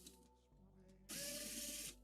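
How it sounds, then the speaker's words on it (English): Powered screwdriver used while building a budget AM4 gaming PC, a short mechanical whir that bursts in loudly near the midpoint and holds for under a second after quieter clicking and handling. "This screwdriver is really pissing me off."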